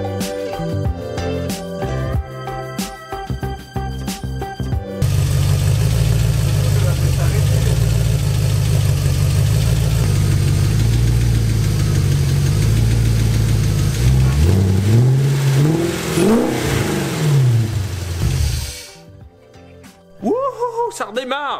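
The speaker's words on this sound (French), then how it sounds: "je pourrais mettre quelques gouttes d'essence et faire démarrer le moteur" A GT40 project car engine with a full straight-tube exhaust turns over and catches, then runs steadily at a loud idle before revving up and down, and finally cuts off abruptly.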